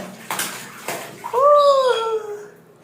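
A child is bathed with cold water in a tub: two splashes of poured water, then the child lets out a short whining cry that trails off into quiet water sounds.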